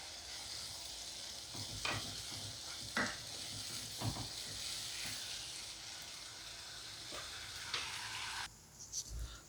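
Dal makhani masala with tomato roasts and sizzles in a pan, a steady frying hiss broken by scraping spoon strokes as it is stirred, close and fairly quiet.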